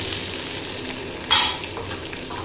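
Chopped onion drops into hot oil in a pan for a small-fish curry, setting off a sudden loud sizzle burst over a steady background frying hiss, with faint stirring scrapes after.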